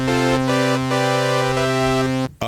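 Omnisphere synthesizer voiced with an OB-6 hardware profile plays a sustained, bright polyphonic chord with dense harmonics and slight retriggers, loud and steady before a short drop near the end.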